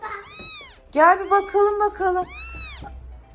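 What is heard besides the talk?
cat meowing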